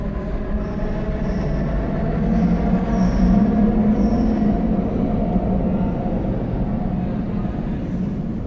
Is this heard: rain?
no